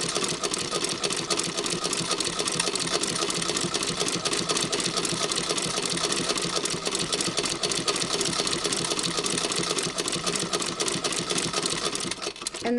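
A sewing machine at a kitchen sewing table stitches fabric for notecards and labels, running as a steady, continuous mechanical whir with a fast rattling needle rhythm, close and alone throughout.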